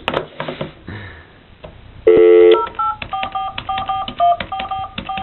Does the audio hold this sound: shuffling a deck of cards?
no